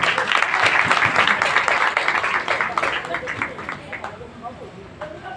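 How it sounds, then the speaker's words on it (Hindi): A crowd at a Bhagwat Katha religious gathering breaks into loud, dense clapping that holds steady for a few seconds, then gradually thins and fades. "उनके लिए भी तालियां बजाओ।"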